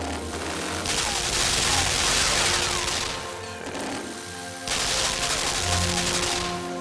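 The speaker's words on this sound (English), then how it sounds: "Maybe it'll destroy that machine gun?" Sustained machine-gun fire in the video game Limbo, a loud, dense roar of rapid shots that keeps going with only a brief dip midway before resuming at full strength.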